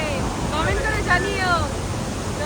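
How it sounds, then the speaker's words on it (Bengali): Water rushes at the Teesta Barrage in a broad, steady roar of noise, close and loud, while a voice speaks over it. "দেখো জলের কি শব্দ দারুণ সুন্দর লাগছে"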